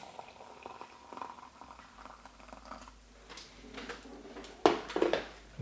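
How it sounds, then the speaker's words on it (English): Hot water pours into a French military MRE ration pouch of chicken and carrot pasta: a close, steady bubbling trickle, then a couple of louder splashy surges near the end. "Blast the hot water to it."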